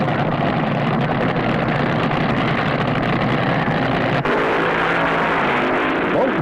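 1970s funny car drag racers roaring down the strip in a World Championship final, a loud, dense, unbroken engine blare that holds at full volume throughout.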